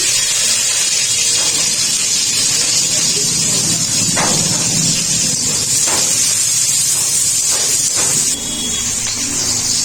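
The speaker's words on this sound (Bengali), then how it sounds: "ওই তেলে আর একটু সাদা তেল দিয়ে দেবো পেঁয়াজ দিয়ে দেবো আর কাঁচা লঙ্কা কুচি" Sliced onions and chopped green chilies fry in white oil in a pan, a loud, steady sizzle and hiss running throughout with a few faint clatters of a utensil.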